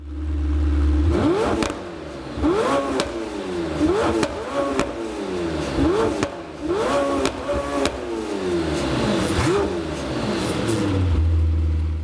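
Lamborghini Temerario supercar with a high-revving V8 bellowing through its exhaust, blipped repeatedly in sharp rising-and-falling revs between a steady idle, loud and close with no talking.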